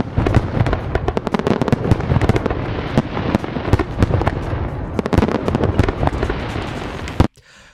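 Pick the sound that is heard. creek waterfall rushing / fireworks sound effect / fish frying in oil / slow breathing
fireworks sound effect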